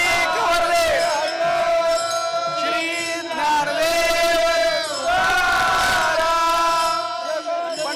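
A large crowd of pilgrims in the Tukaram Maharaj palkhi procession at Dehu chants and cheers Tukaram's name in loud, sustained, rhythmic unison that swells in waves, with massed voices ringing throughout.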